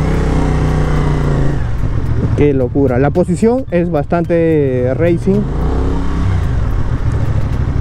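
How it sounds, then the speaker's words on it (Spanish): A CFMoto 450 SR motorcycle engine drones steadily from the rider's position on a test ride, keeping a constant tone while someone talks over it in the middle. "Es una barbaridad el sonido que tiene esta moto."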